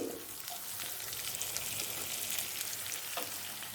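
Crushed garlic and slit green chillies sauté in a pan for a groundnut kara kuzhambu, a steady close sizzle and fry with a couple of soft stirring scrapes and no voices.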